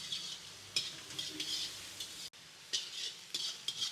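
Onion and capsicum fry in a pan, a steady close sizzle with spatula scrapes and stirring clinks, dipping briefly to a hush midway before the sizzling resumes.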